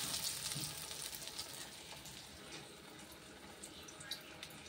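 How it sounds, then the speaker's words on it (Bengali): Cornflour-coated paneer pieces frying in hot oil, a steady soft sizzle and crackle with faint clinks, no talking. "আগে থেকে গুলিয়ে রাখা কর্নফ্লাওয়ারটা ভালো করে মাখিয়ে একটা একটা করে তেলে ছাড়লাম"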